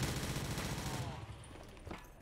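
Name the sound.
gunfire in a zombies video game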